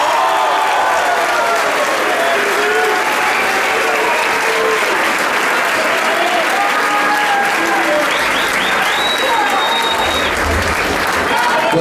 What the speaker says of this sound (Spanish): vamos a recibirlo con un grandísimo aplauso